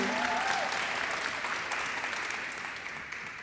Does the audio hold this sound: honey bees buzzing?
no